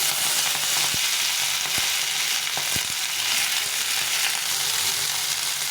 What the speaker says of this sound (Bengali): এখন এই কালো জিরেটা দিয়ে আর চারটে কাঁচা লঙ্কা দিয়ে শাকগুলোকে একটু ভেজে নিব